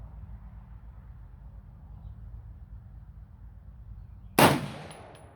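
A single sharp rifle shot from a 16-inch 6.5 Creedmoor AR-10 during outdoor chronograph testing, a loud crack with a short decaying tail that breaks an otherwise quiet, low rumbling background.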